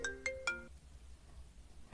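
Mobile phone ringtone of an incoming call, a few bright melodic electronic tones in quick succession at the start, then fading into quiet room tone.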